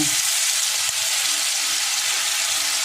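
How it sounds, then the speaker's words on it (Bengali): Spice paste going into hot oil with fried cumin, a loud, steady, close-up sizzle that holds without a break and has no voices over it. "এবার আমি গুলে রাখা সেই মশলাটা দিয়ে দেব।"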